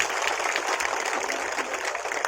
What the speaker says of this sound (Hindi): एक तालियां सिद्धार्थ रत्नबीरे जी की।